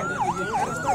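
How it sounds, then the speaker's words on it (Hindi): Ambulance siren wailing at a street protest, a fast repeating up-and-down sweep cycling three times within a second, loud and close with no voices over it. "ये एम्बुलेंस को रास्ता दें जी।"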